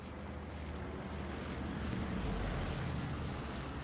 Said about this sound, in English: That plane's coming in quite low, like it's going to drop some bombs.